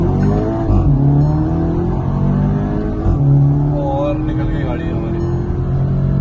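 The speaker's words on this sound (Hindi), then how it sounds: "और निकल गई गाड़ी हमारी।" A Skoda Octavia accelerates hard in a roll race, its engine rising steadily in pitch as it pulls through gears, loud and close throughout, with people talking over it.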